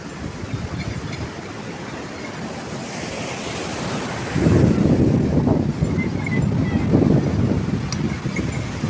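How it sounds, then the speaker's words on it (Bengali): Ocean surf rolls onto Puri beach on a morning, a steady broadband wash of breaking waves that swells louder midway and stays full, with wind noise on the microphone. "এই যে সমুদ্র পাড়ে এসেছি একটু সকালে ব্রেকফাস্ট করে দেখো সমুদ্র সকালবেলাকার"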